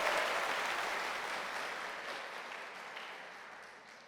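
Applause from a congregation at a church service, a steady wash of clapping that starts full and slowly fades over a few seconds, with no voices on top.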